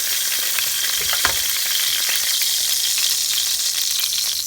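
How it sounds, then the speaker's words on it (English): Vegetables frying in leftover chicken grease in a pan for chicken and noodles make a loud, continuous close sizzle with crackling pops throughout and no voices. "we're gonna fry up the vegetables"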